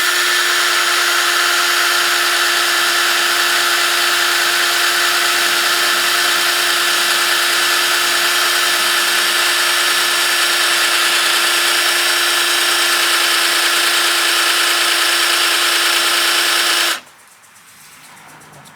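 A power drill with a poor-quality bit bores into plastic while a toilet paper bypass oil filter is installed on a Chevy 2500 with a 350 engine; a loud, steady, high-pitched whine runs close by for about seventeen seconds, then stops abruptly.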